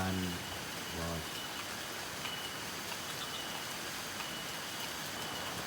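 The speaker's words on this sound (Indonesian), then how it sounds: "lihat nih, di sini lagi hujan guys" Steady rain falls in Garut, Indonesia, as a dense, even hiss that fills the whole clip; a brief low voice or tone shows only in the first second or so.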